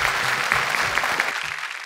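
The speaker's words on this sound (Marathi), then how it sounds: "जोरदार टाळ्या होऊन जाऊ देत" An audience gives loud, close applause for the winner of a quiz game, a dense burst of clapping that lasts about two seconds.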